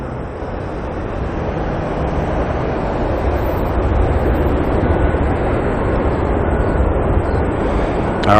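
A passenger aircraft, Air New Zealand flight NZ 5060 in from Nelson, landing at Auckland Airport, a loud, steady broadband engine roar that holds throughout, close by and unbroken.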